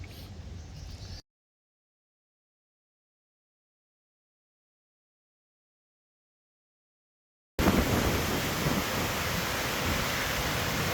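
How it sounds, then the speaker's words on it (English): Outdoor wind gusting and buffeting a microphone: a short burst of broadband roar, then a long stretch of complete silence, then a louder, sustained rushing roar to the end, no voices. "Real wind blowing up here"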